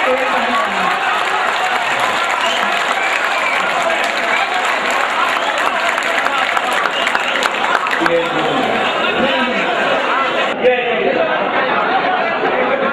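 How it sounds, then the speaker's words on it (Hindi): Sustained applause from a mushaira poetry audience, a dense steady wash of clapping mixed with crowd chatter, continuous and moderately loud throughout. "तालियां दोस्तों, तालियां"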